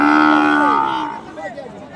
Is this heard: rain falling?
no